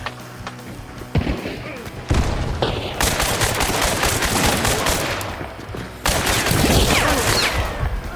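Caldwell Conversion Chain Pistol firing in the game Hunt: Showdown, loud rapid bursts of gunfire with sharp cracks and booming reports in several volleys, the intensity stepping up in stages.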